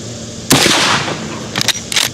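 A Browning 1892 lever-action carbine in .44 Magnum fires a single sharp, loud report from home-loaded 180-grain Hornady jacketed hollow points, followed by a ringing tail and a couple of brief clacks.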